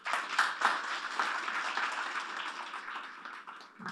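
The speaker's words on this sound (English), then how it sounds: "can we get a round of applause for Oscar Clark?" Audience applause for a game design talk's speaker fills the room, a steady wash of clapping that starts strong and gradually thins toward the end.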